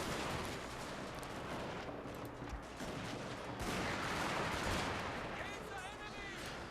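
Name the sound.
line infantry musket gunfire in video game Total War Shogun 2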